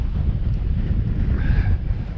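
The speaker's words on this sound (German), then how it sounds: "hier weht ein ganz nettes Windchen" Outdoor wind buffets the microphone in steady, loud low rumbling gusts for the whole stretch, with no voices over it.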